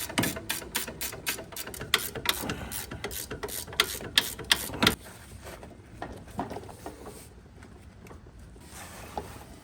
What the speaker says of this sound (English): You can't get an impact, so one of these ratcheting wrenches is amazing.